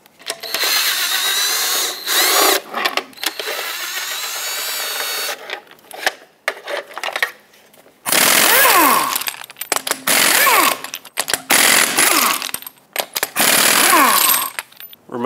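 A power tool whirs and whines in repeated bursts while taking lug nuts off a 2011–2018 RAM 2500 wheel, close and loud, with rising and falling revs, brief pauses and small metallic clinks between runs.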